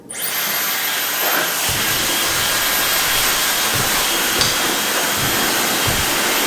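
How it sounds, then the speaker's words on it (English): A hair dryer blows steadily at close range, a loud continuous airy whoosh with a faint high whine, running unbroken throughout. "So I turn the dryer back on."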